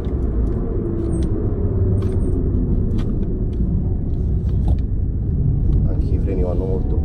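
A Mercedes A170 rolls over road dips: a loud, steady road and engine rumble with occasional soft thumps from the suspension, and someone talks over it throughout.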